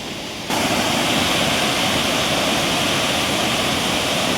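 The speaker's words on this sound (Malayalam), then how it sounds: "പോകുമ്പോൾ സൈഡിലുള്ള വെള്ളച്ചാട്ടമാണ്" A waterfall pouring over rock beside iron steps at Courtallam, heard as a loud, steady roar of rushing water that swells to full strength after a brief quieter moment and continues unbroken.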